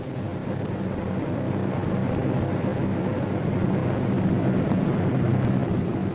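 B-24 Liberator bombers of the 7th Air Force flying over Wake Island during a 1944 bombing raid, a steady loud droning roar of multiple engines that holds constant throughout.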